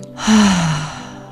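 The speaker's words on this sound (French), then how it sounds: "Et expire par la bouche." One long breath is pushed out through the mouth during a breathwork session, close and clear, swelling quickly and then trailing off gently over about a second.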